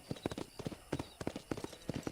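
Horse hooves in a Red Dead video game clip-clop in a quick, steady rhythm, fairly close and alone, sounding like a horse trotting on firm ground.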